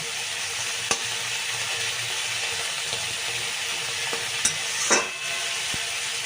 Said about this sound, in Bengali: এটাকে প্রথমে নুন হলুদ দিয়ে ভেজে নিলাম দেখো সুন্দর করে ভেজে নিচ্ছি